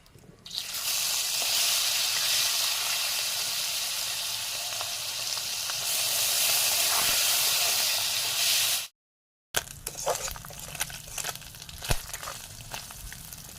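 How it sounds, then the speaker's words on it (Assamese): Small mowa fish frying in a little oil in a wok, a loud, bright, continuous sizzle for about nine seconds, then a brief silence followed by quieter crackles and utensil clicks. "এতিয়া মাছখিনি এনেকৈ ভাজি ল'ম।"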